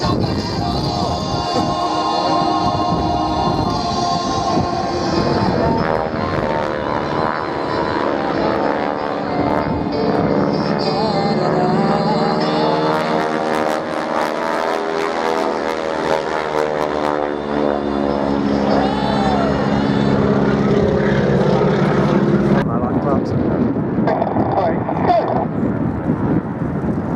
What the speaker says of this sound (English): The aircraft the team use are Stearman